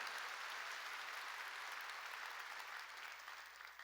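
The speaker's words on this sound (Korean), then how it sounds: "믿으면 박수로 하나님께 드리라" A church congregation applauds, a steady wash of many hands clapping at a distance that holds evenly and then fades slightly toward the end.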